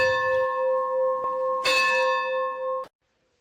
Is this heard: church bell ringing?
yes